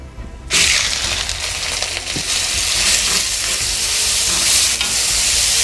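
300 grams of chopped onion drops into a pan of hot oil with whole spices for Bengali chicken kosha. A loud, close sizzle bursts in and keeps crackling steadily, with occasional stirring scrapes.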